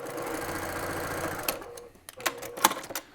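Sewing machine running steadily as it stitches a 1/4-inch seam with cotton thread, a continuous close mechanical whir for the first half, then stopping into a few scattered handling clicks and taps.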